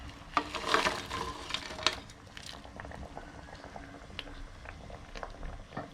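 A pot of Thai grilled-fish curry with glass noodles at a full boil, soft continuous bubbling with scattered pops and gurgles, close but fairly quiet, no talk.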